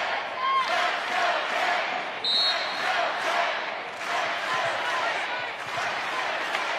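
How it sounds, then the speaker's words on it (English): Volleyball crowd chanting "Let's go Pitt" in an arena during a women's college match between Pittsburgh and Louisville, a steady, loud roar of voices with rhythmic surges and no speech over it. "We chant, "Let's go Pitt" here from the Peterson crowd."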